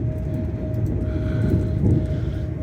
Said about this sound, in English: The train's arriving on time.